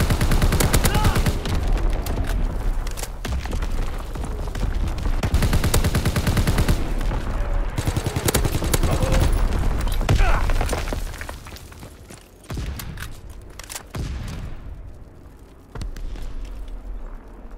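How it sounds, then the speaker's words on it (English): Artillery barrage in a WW2 multiplayer shooter on an Aachen map: dense, continuous booming and crackling gunfire fills the first ten seconds, then thins into scattered blasts with game voice callouts over the top. "Incoming enemy artillery."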